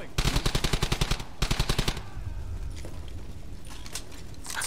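Gunfire in Brothers in Arms: Hell's Highway: two quick bursts of rapid automatic shots, loud and close, followed by a quieter stretch of background battle noise.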